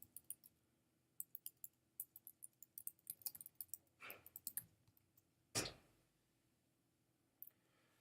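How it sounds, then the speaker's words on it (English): Typing a command on a computer keyboard, a quiet run of scattered key clicks in irregular bursts, followed by a couple of louder isolated taps, with no talk. "I'm going to type in the command that I ran again."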